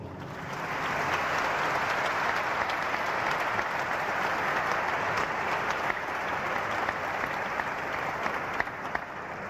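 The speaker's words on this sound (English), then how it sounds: "I think they need your applause." Sustained applause from a large audience at a religious debate, a thick and even wall of clapping heard from a distance that holds steady throughout.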